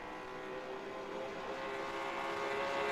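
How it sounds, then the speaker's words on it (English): Late model race cars circling the paved track at Richmond during a practice session with only a couple of cars out, a steady continuous engine drone holding at moderate distance and swelling slightly louder toward the end. "Only a couple of cars out making laps at the moment."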